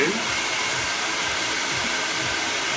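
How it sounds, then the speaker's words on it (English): A handheld hair dryer runs for a salon blow dry, producing a steady, loud, broadband whoosh that starts right away and keeps going evenly throughout. "picking up the dryer is 1, turning it on is 2"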